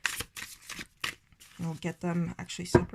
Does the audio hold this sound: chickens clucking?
no